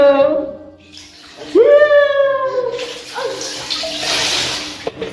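A small child being bathed, with water splashing and poured over them; a voice and adult chatter come first, then a rushing, splashing wash fills the last few seconds.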